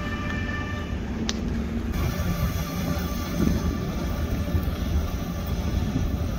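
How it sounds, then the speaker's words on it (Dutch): Steady rumble of a train crossing a level crossing and arriving at its terminus, Norddeich Mole, with a continuous low roar and faint high whine, fairly close and unbroken throughout. "de voorkant van de trein rijdt nu een overweg over en komt nu aan op zijn eindbestemming"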